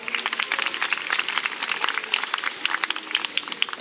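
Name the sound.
audience applause for the killer whales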